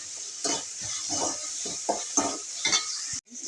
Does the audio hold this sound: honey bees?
no